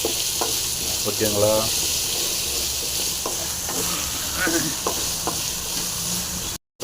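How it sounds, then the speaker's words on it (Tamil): Tomatoes frying in a pan for a herbal kuppaimeni soup, a steady broadband sizzle with repeated scraping stir strokes throughout, a few brief spoken words partway through. "தக்காளி, இது 3 சேர்த்து நல்லா கொஞ்சம் ஃப்ரை ஆகிடும்."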